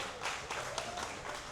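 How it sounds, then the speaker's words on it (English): Wedding guests at a reception clap for the photographers and videographers, a short burst of many hands in a room, moderately loud with some voices underneath. "have a round of applause for the photographer and videographers"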